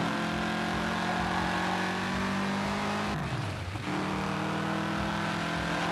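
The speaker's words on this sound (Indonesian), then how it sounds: "Knalpotnya bisa ngeblur." Engine of a car in the Gear.Club racing game revs loud and continuous, with a short dip and drop in pitch midway as the exhaust pops before the drone resumes.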